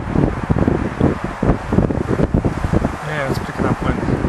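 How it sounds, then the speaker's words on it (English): Wind buffets the camera microphone of a small FPV drone flying freestyle outdoors in Milwaukee. The roar is loud, broadband and gusty, surging and dipping continuously with rustling texture and some motor whine throughout. "it's picking up wind"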